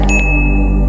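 A single notification bell ding rings out and sustains as a clean bright tone over a loud, steady low hum.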